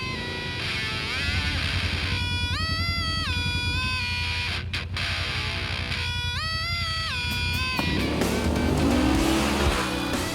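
Yamaha off-road vehicles race on a dirt track, engines revving high and rising in pitch through repeated gear shifts, with a continuous loud mechanical drone and a brief tire skid near the end.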